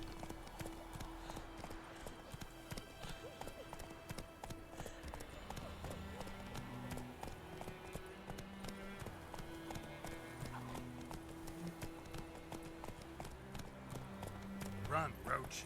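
Roach, a horse in The Witcher 3, gallops with a rapid, continuous hoof rhythm, quiet and steady, under game music and a voice talking, with a whinny near the end.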